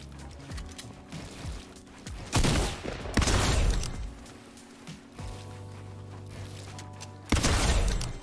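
Gunfire in a video game while shooting bots on a build-fight practice map, with bursts of shots and mechanical clicking of building pieces, several loud volleys spaced across the span.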